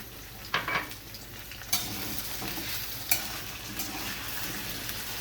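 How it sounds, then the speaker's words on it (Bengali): Pointed gourd and potato pieces frying with onion, ginger and cumin paste and a bay leaf in a pan, a steady sizzle broken by several sharp scrapes of the stirring spoon, close up with no talking. "পটলগুলো আর আলুগুলো একসাথে এবার ভাজা হবে"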